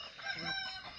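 A rooster crowing among chickens, one drawn-out, fairly close call lasting about a second with no talk over it.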